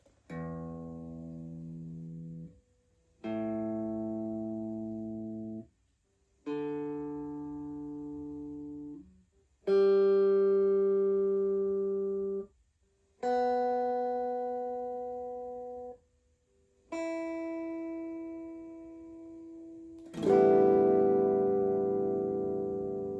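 Single guitar notes plucked one at a time, seven in a row with short gaps, each ringing clearly before the next, as if strings are being checked for tuning.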